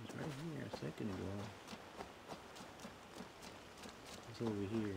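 Horse hooves clip-clop in Assassin's Creed Valhalla near the Uriconium ruins, a light run of taps in the middle stretch, mostly under someone talking.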